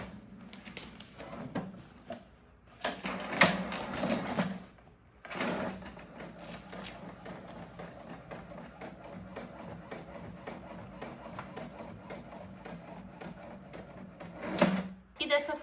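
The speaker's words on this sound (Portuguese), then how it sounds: "Eu preciso dar uma ajudinha aqui para a impressora puxar essa folha." An ordinary home printer feeds an adhesive sheet carrying an embroidery pattern onto fabric, giving a steady mechanical whir with clunks and bursts of feed noise at the start and end. Close and fairly quiet, with no talking.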